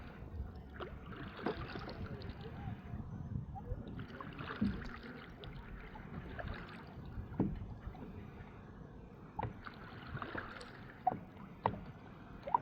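A kayak glides across a lake, paddle strokes dipping and splashing in a slow, repeating rhythm over soft water and faint wind, fairly quiet and close.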